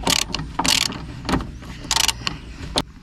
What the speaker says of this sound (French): vous prenez la douille de 16 et là, on visse jusqu'à temps que ça bloque.